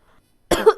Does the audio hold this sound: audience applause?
no